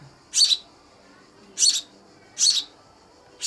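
A young tree sparrow gives repeated high, thin calls, three clear bursts spaced about a second apart, with a fourth starting at the end, fairly close against a quiet background.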